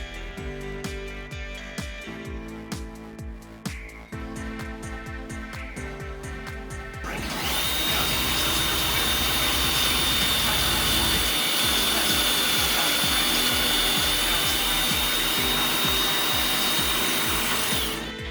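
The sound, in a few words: drilling pocket holes in wood with a pocket hole jig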